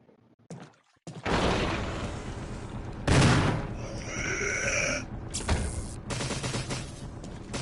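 Rapid gunfire bursts in the Resident Evil Remake video game ring out loudly in quick succession, with brief pauses between the volleys and some tonal game sound effects layered in.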